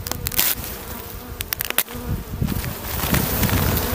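Honey bees buzz densely around an opened hive while an artificial swarm is being made, a close, steady drone broken by a few sharp knocks and handling clicks.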